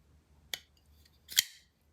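A Shirogorov Division custom folding knife closes with two crisp, close metallic clicks about a second apart. The second click rings slightly longer, and the background is otherwise quiet.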